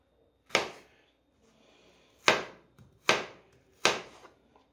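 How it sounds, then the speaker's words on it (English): A knife chops an onion on a cutting board in four sharp, isolated knocks spaced irregularly, close and clear with quiet between strikes. "Here we go, chopping up the onion."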